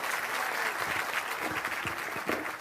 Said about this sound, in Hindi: अब एक बार प्रशांत किशोर जी के लिए जोरदार ताली बजाइए